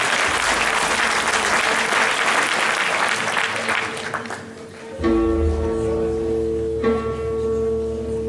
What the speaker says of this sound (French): On les applaudit très très fort.